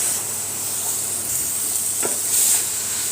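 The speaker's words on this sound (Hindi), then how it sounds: "मसालों को अच्छे तरीके से मैं इसके अंदर भुनाई कर लूँगी" Spices being fried with minced meat for aloo keema, a steady, even sizzle with a faint hiss and a soft scrape of stirring partway through.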